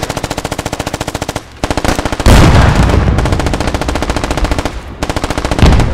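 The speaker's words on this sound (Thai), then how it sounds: "They're shooting." Repeated automatic gunfire in the military shooter game Squad, loud and close, with rapid rhythmic bursts broken by short pauses and a heavier sustained barrage in the middle.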